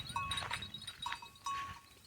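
Sheep bleat faintly on a farm in Pakistan, giving three short, thin calls spaced across a quiet outdoor background.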